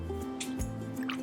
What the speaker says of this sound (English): So I'm squeezing the sponge over top of the roof.